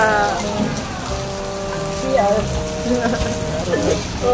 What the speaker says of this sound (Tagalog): hindi pa humuhupa yung ulan